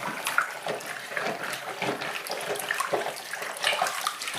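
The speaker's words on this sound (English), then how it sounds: "as I plunge it, the water comes out of this drain hole" Water sloshes and splashes as a clogged drain is plunged. Close, irregular gurgles and spatters run continuously at a moderate level, with no voices.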